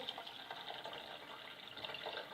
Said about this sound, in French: Donc on va rajouter de l'eau.